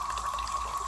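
Water runs steadily in a small garden patio fountain, a continuous close trickle with a faint tonal hum beneath it and no talking.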